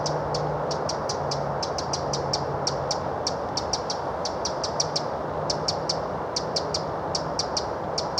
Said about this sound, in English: there's a little wren over there